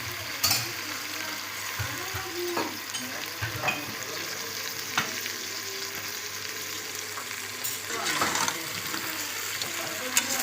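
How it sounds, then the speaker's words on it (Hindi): Water splashed onto dry coriander in a hot pan of mutton and potato curry sizzles, a crackling frying hiss with a few sharper spits and bursts, close by and steady. "थोड़ा सा पानी का छींटा दूंगी इसे।"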